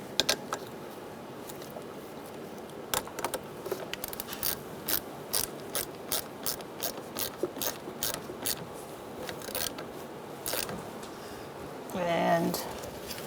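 A ratchet with a 10mm socket clicks in a quick rhythmic series as it tightens the negative battery terminal on a 2010-2013 Kia Soul 2.0L, crisp and close, followed by a brief rustle.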